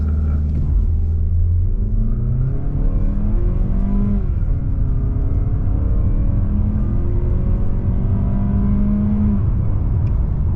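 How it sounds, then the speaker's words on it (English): A 2026 Mazda CX-30 non-turbo in sport mode accelerates hard from 0 to 60, its engine droning loudly from inside the cabin as the pitch climbs, drops sharply at a gear shift, then climbs again under steady road rumble. "0 to 60 in the 2026 Mazda CX-30 non-turbo."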